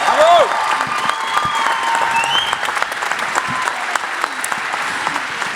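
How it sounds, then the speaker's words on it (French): Loud, dense applause from an audience at the closing ceremony of a comedy film festival in Isère, continuous throughout with a few whistles rising above the clapping. "Voilà, je vous demande de l'applaudir."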